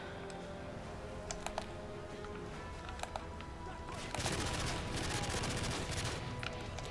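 Gunfire in the video game Modern Warfare 3 during the Spec Ops mission Over Reactor: a few scattered single shots, then a sustained burst of rapid fire that carries to the end.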